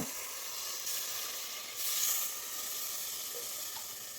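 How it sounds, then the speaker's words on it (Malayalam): Water poured into hot potato masala curry in a pressure cooker on full flame, giving a steady close sizzle and hiss that swells briefly midway, with no voices. "ഇനി നമുക്കൊരു കപ്പ് വെള്ളം ഒഴിച്ച് കൊടുക്കണം"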